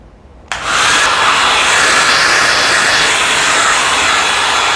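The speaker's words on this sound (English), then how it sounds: "if you have your hair dryer, you can use this to dry those blades of grass" A hair dryer switches on after a brief pause and blows steadily and loudly onto painted blades of grass, a constant high whooshing roar with no voices.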